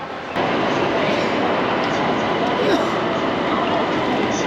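A moving train heard from inside the carriage on a rail journey from Guangzhou toward Hong Kong, giving a steady, continuous rumble of wheels and car noise at even loudness throughout, with no clear pauses.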